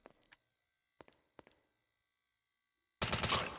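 Gunfire in the combat game Pigface: three short, sharp shots spaced apart over near silence, then a sudden loud dense burst of rapid fire.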